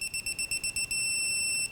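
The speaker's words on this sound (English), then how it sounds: "it'll start to beep" A Mac Tools digital torque wrench beeps as it nears its target torque, a quick run of short, high, evenly spaced pulses that merges into one steady continuous tone, with a few more pulses at the end.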